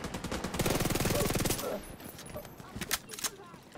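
Rapid automatic gunfire from The Division 2 video game, a dense machine-gun burst for about a second and a half, then scattered single shots and impacts further off.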